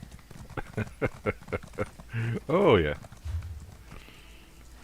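A horse's hooves clip-clop in The Elder Scrolls Online, a run of distinct rhythmic steps followed by louder mount sounds, with someone talking over the game audio.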